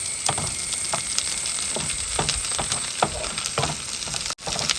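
Shallots and onion fry in a pan while being stirred: a constant close sizzle with repeated light clicks and scrapes of the spoon in an uneven rhythm, briefly cutting out near the end, no talking.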